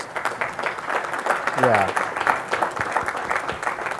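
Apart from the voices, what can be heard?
polite applause, like a golf clap, at a business meeting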